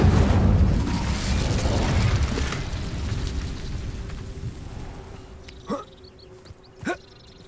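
A Bombarda explosion spell in Hogwarts Legacy sets off a heavy rumbling blast that fades gradually, followed by two short sharp pops near the end.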